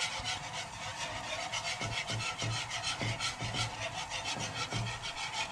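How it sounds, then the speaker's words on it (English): A whisk scrapes rhythmically around a pan as flour, butter and milk come together into a gluten-free béchamel sauce, a continuous close rubbing swish with regular strokes and no talk. "keep whisking it around until the flour and the butter take on all of the milk and it becomes a thin sauce"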